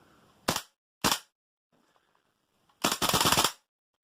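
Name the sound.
TM AKM gas blowback airsoft rifle firing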